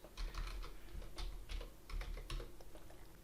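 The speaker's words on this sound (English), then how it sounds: "I'll simply be typing in quikStarts" Rapid typing on a computer keyboard, a quick run of close clacking keystrokes in short bursts, alone and moderately loud.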